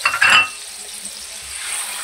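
Chicken pieces frying in hot oil or ghee for chicken jalfrezi, with a bright sizzling burst at the start that settles into a soft, steady hiss, close by and alone.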